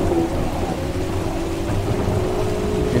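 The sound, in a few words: rain and thunder in the video game Assetto Corsa Evo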